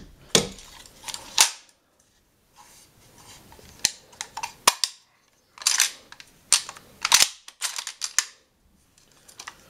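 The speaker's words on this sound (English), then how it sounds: "But let me just clear the gun real quick." An AK-style rifle fitted with a Beryl-style scope rail and a Vortex sight has its action worked by hand, giving a series of sharp, close metallic clacks and rattles in uneven bursts separated by short silences.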